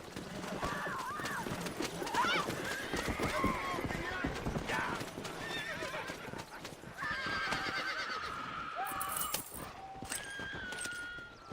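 A horse in a western video game neighs loudly and whinnies more than once over the clatter of galloping hooves, with tack jingling and a voice speaking in between, all close and steady throughout.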